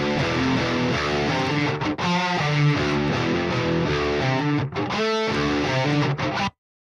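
Distorted electric guitar through a free amp simulator plugin, strumming a chunky chord riff with brief pauses, loud and close, cutting off abruptly near the end.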